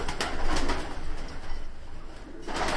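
Miro breed pigeons coo steadily inside a loft, soft rolling calls layered over constant background hum and occasional wing rustles, fairly close with no talking.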